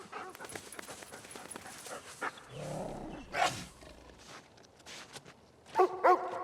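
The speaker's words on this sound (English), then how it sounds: "what are you barking at?" A dog in a snowy outdoor scene gives a couple of sharp, fairly close barks near the end, after a quieter stretch with a low growling or roaring sound in the middle.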